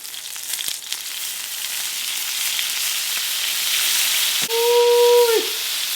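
Bone-in axis deer steak frying in a hot pan as Lea & Perrins Worcestershire sauce hits it, a loud steady sizzle and hiss that swells near the end with a brief whistling steam tone.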